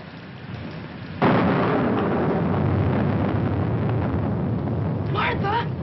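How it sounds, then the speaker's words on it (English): A thunderstorm with rain from a 1946 film: steady rain hiss, then a sudden loud crash of thunder that rolls on continuously, with a brief voice near the end. "I'm afraid of the thunder and lightning."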